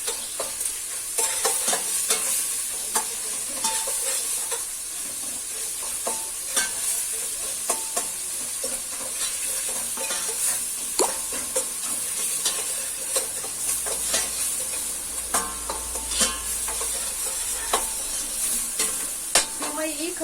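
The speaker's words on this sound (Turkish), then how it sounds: "Kıymamızı kavuralım." Minced meat sizzles and fries steadily in a pan while a utensil stirs and scrapes through it with repeated clicks, continuous and close.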